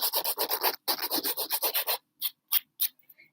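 A nail file rasps across fingernails, shaping them square with rounded corners in quick, even back-and-forth strokes up close, then slowing to a few separate swipes.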